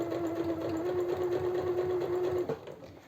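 Sewing machine stitching a bar tack on fabric, a steady close motor hum with rapid needle rhythm for about two and a half seconds, then stopping with a clunk.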